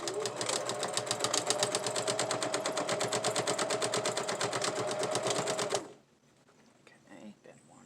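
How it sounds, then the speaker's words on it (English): A home sewing machine stitches fabric bins in a rapid, even mechanical chatter that runs for about six seconds and then stops, leaving quiet room sound with faint movement. "my sewing machine isn't exactly meant for heavy-duty"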